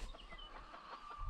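Chickens in mobile chicken tractors during a heat wave give faint, soft clucks in a short irregular run, heard at a distance over light background noise with no talk.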